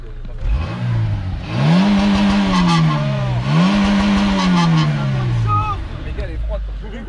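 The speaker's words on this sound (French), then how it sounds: "ouvre les valves et fais entendre le bruit à l'échappement" Renault Scénic exhaust with valves open, revved in two loud rising-and-falling pulls close by, a harsh blaring note swelling then easing, with people talking over it.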